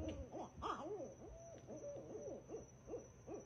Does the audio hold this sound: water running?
no